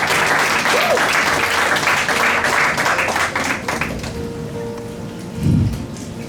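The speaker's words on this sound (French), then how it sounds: "Est-ce que nous allons acclamer très très fort?" A church congregation gathered for a baptism service applauds loudly, a dense sustained clapping that starts at full strength and gradually thins out, with a few voices mixed in.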